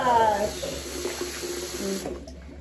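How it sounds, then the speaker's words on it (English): Water runs steadily from a household tap into a sink as a child's toothbrushing begins, a continuous splashing hiss that fades to near silence as the tap is turned off. "Let's turn off the water."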